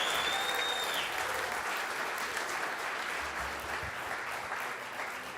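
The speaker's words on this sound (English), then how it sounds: "Can we just give another round of applause to our special guest?" A crowd at a speaking event keeps applauding Tucker Carlson, a broad, even roar of many hands that tapers slightly toward the end, with no speech over it.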